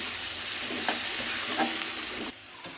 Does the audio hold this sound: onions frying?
yes